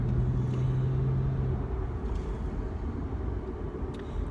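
Steady low road rumble and engine drone from inside a moving car, continuous and fairly loud throughout with a faint tonal hum early on and no talking.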